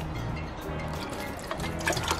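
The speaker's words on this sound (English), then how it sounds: "the water is hitting all around the side" Water runs through a homemade hydroponic tower, splashing and trickling close by in a steady wet patter with a few louder drips.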